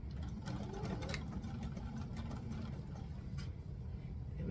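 A sewing machine runs steadily, stitching a 5/8-inch seam on a Simplicity 9136 pattern garment, a continuous close motor hum with a few faint clicks throughout.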